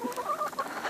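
Hens cluck in short, busy bursts close by, a quick run of chattering calls.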